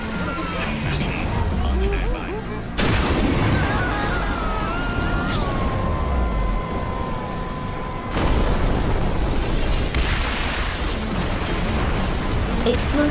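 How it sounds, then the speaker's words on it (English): Building demolition in the video game Screamride, serial explosions heard as loud continuous rumbling booms and bursts in a chain reaction, with synthetic announcer-style voices speaking over the din. "Collapse underway. Serial explosions detected."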